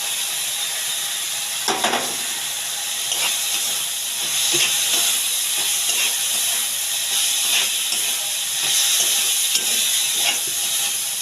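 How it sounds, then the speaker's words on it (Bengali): Fried okra sizzling in a pan with salt, water, sugar and sauce, a steady close hiss with scattered crackles and a few soft scraping clicks throughout. "এবার ভাজা ঢ্যাঁড়সটা দিয়ে দিলাম।"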